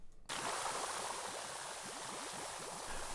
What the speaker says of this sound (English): Let's get some soap on this area. Soap this area right up.